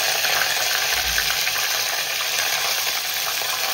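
Curry leaves, chili, ginger and garlic sizzle in hot oil with mustard seeds, cumin and asafoetida for a tadka, a loud, close, continuous crackling hiss with faint stirring clinks.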